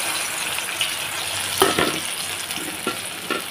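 Thin taro slices frying in hot oil for crispy chips give a steady bubbling sizzle close by, broken by several sharp spatula clinks and scrapes as the pieces are moved around.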